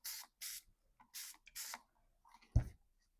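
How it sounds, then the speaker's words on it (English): Four short, breathy spray bursts from a spray bottle misting water onto medical tissue paper in quick succession, followed by a soft rustle of paper and a brief louder thump near the end. "I'm going to spray this medical tissue paper with water."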